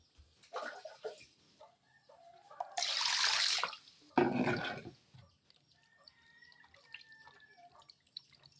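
Running tap water splashes in bursts over fish being rinsed, with drips and trickles in between and occasional handling sounds, no talking.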